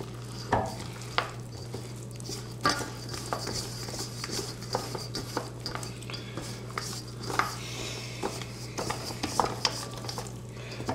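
Flour being folded into wet Neapolitan pizza dough with a spatula in a bowl, heard as soft, irregular scraping and stirring strokes over a steady low hum, with no talking.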